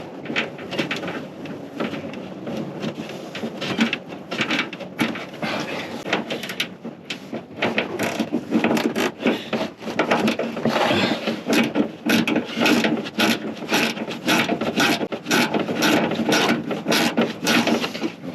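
A bolt being tightened with a ratchet while installing a cold air intake on a 2006 Mega Cab truck with a 5.7 engine, rapid close ratcheting clicks in bursts over shop noise, growing denser toward the end.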